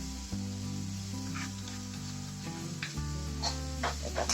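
Garlic-ginger paste being stirred as it fries in a pan, a steady sizzle with scraping spoon strokes that grow busier toward the end, close and fairly quiet, with no voices.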